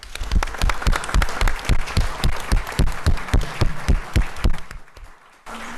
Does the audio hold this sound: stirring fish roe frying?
no